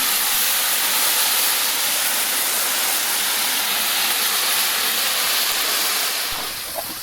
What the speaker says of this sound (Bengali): এদিকে দেখো সবজি সব ভাজা হচ্ছে